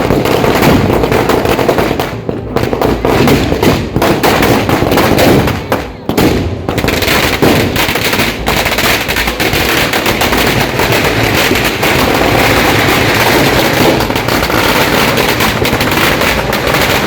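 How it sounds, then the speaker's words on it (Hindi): Guns, cannon and firecrackers go off at the gunpowder Holi festival in Menar, a dense, continuous barrage of loud rapid bangs and crackling with brief gaps, close and overwhelming. "बंदूकों के धमाकों के साथ तोप भी छोड़ी जाती है तो लाखों रुपए के पटाखे भी जलाए जाते हैं"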